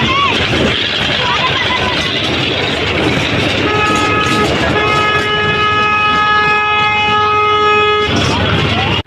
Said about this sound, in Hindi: तो ये देखिए ये बच्चों वाली ट्रेन है और ऐसा लग रहा है कि ये सचमुच का ट्रेन है